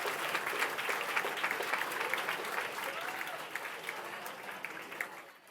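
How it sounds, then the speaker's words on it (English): A school annual day audience gives a big round of applause for students and teachers, with thick, continuous clapping from a large crowd that stays loud for several seconds before tapering off. "Let's have a big round of applause for Standard and students and all our dear teachers"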